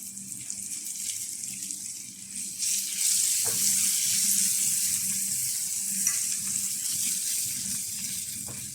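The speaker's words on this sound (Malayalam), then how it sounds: "നമുക്ക് കുറച്ച് സോയാ സോസ് ഒഴിച്ചു കൊടുക്കേ" Soy sauce poured into a pan of sizzling egg for a chilli garlic egg dish brings a steady close frying sizzle with a brief splashy hiss as the liquid goes in, no voices.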